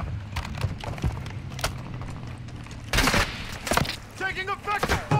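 Scattered gunfire in a first-person video game shooter, sharp single cracks and a dense burst of shots, moderately close, with players talking over the action.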